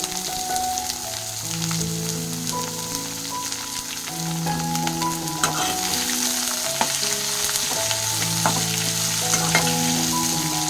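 Onions frying in a pan for paddu chutney, a steady sizzle and crackle running throughout with occasional stirring, while music plays over it.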